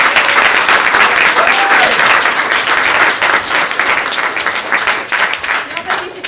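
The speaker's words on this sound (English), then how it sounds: "Let's give him a round of applause." A roomful of listeners applauds loudly and continuously, the clapping holding strong before easing slightly, with a voice briefly heard over it.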